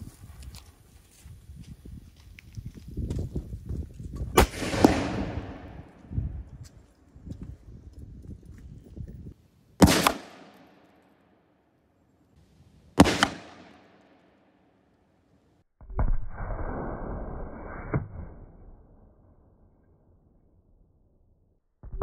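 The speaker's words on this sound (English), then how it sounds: "We're going to shoot some chain shot out of it and see what happens." Cannon firing chain shot at a stand-in pirate ship from about 50 yards: two sharp, loud booms a few seconds apart, with rustling and handling noise before them and a longer rushing burst afterward.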